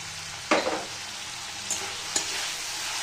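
Dried red chili, nigella seeds, chili powder, turmeric and sugar frying in hot oil, a steady soft sizzle broken by a few sharp crackles and stirring scrapes, close by with no talking.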